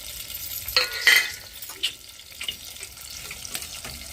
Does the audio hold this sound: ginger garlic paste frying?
yes